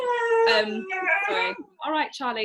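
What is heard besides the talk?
excited dog howling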